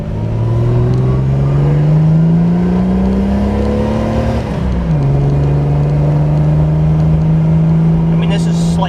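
A Jeep TJ with a 4.6 stroker engine and 31-inch tires pulls uphill, its engine droning loud and steady with the pitch rising slowly and dipping at a gear change, then settling back into a constant hum.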